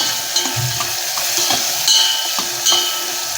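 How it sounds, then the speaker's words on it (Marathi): A pinch of fenugreek powder sautéing in a pan for dodkyachi aamti, a ridge gourd curry, sizzling steadily close up under a few light scraping stirs and soft clinks of the spoon. "चिमूटभर मेथीची पूड परतून घेऊया"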